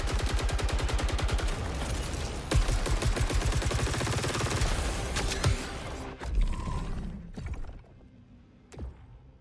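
A corrupted tactical rifle in the game Saros fires in rapid sustained bursts, loud and close, with mechanical clatter and a few scattered final shots as the firing tapers off.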